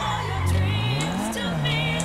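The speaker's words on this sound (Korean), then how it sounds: "이 차 되게 엔진 소리 작다" A car engine in the video game GTA 5 hums at a low, smooth pitch that rises and falls gently as the car drives, moderately loud with light background game sounds.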